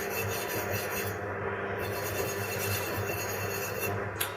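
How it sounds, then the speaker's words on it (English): Wire wool rubs over a slightly rusty metal garden tool in quiet, continuous scratchy strokes over a low steady hum, with a small click near the end. "But for this tool, I'm just going to get some wire wool on it."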